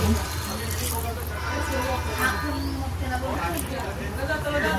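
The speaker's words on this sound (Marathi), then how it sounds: "त्यामध्ये आपण हे गरम केलेलं पाणी ओतायचं आहे" Hot water pours steadily into sizzling masala in a pan for a white sardine fish curry, a continuous splashing hiss lasting several seconds, close by.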